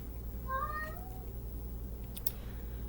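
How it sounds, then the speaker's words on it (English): A house cat gives one clear, drawn-out meow near the microphone over a low steady hum, followed by a couple of faint clicks. "Oh my goodness, Kitty, do you have some advice for us?"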